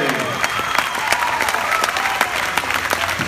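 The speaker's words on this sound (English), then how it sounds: "let's give a big round of applause for this great stallion" Steady applause fills an arena for a Quarter Horse stallion at a horse show, dense continuous clapping from a large crowd with a few sharp louder claps, no talk over it.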